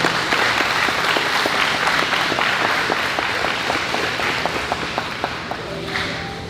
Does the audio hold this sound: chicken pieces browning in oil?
no